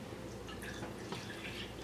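Whole milk pours into sweet dough ingredients, a soft, quiet liquid trickle and splash lasting a couple of seconds at close range.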